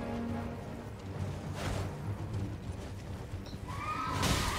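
A horse whinnies in the video game Elden Ring over a dense, continuous wash of game noise and music, the call rising loud near the end.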